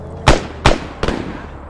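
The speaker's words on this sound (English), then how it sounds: "Hey, warning shots!" Three sharp gunshots fired as warning shots in the military video game Arma 3, evenly spaced about every 0.4 seconds, loud and close with short decaying tails.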